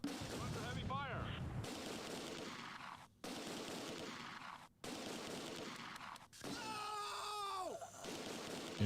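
Sustained gunfire strikes a building in the center of a World War II battlefield in Close Combat 2, with dense crackling shots and bursts layered over a continuous rumble, interrupted by brief gaps and a whining, descending tone near the end.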